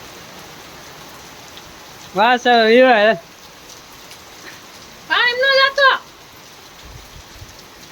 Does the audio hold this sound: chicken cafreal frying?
no